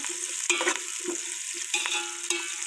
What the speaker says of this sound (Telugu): కొంచెం ఆయిల్ ఉన్నది పచ్చిమిర్చి ఆనియన్ కరివేపాకు కూడా మంచిగా ఫ్రై చేసుకోవాలి